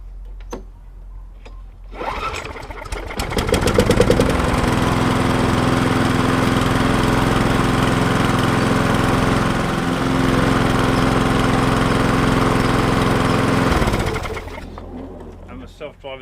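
A lawn mower on a Crowcast deck powered by a Briggs 500 engine starts up and runs steadily, a loud continuous engine drone holding for about ten seconds before cutting out, with birds cooing faintly in the background.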